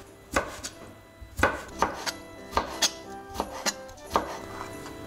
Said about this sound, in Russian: Кубиком нарезаю огурчик.